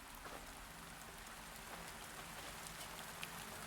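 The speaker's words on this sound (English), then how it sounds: "Sounds like rain." Rain in the video game A Merchant's Promise falls as a soft, steady hiss of drops, faint and continuous, with no voices over it.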